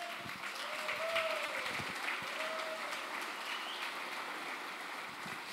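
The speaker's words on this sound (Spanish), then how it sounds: "démosles un fuerte aplauso." Applause from a congregation at a Christian conference fills the room, a continuous wash of clapping heard at a distance and fairly soft, with a few faint tonal sounds drifting through.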